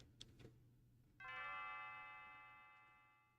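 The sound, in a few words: mysterious bell ringing in a video game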